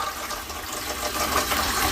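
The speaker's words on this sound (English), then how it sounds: "let's do our first flush test" An upstairs toilet flushing right after a repair, a steady strong rush of water filling the whole stretch at close range with no talk over it.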